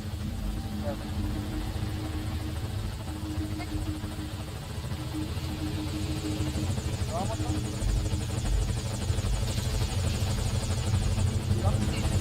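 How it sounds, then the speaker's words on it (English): A helicopter in Metal Gear Solid V: Ground Zeroes drones loudly and steadily throughout, its rotor thrum building slightly as it arrives, with voices talking over it. "This is Morpho, arriving shortly at LZ."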